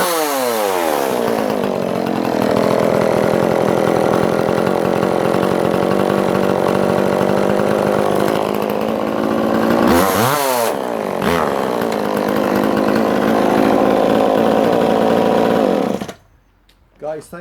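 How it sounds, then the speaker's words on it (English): A vintage McCulloch PM484 chainsaw engine runs loud and close at a steady two-stroke idle, rising in a couple of throttle blips before cutting off abruptly near the end. "Just a gorgeous, gorgeous running engine."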